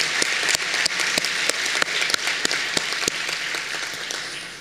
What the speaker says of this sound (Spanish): Aplaudimos, claro que sí.